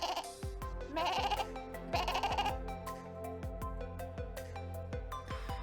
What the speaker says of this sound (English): Eventually all the baas turn into a light rhythmic lullaby.